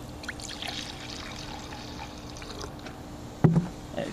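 Pool Perfect phosphate remover poured from a bottle into a swimming pool, a soft steady trickle and splash at moderate distance, faint under outdoor background noise, with a slight bump near the end.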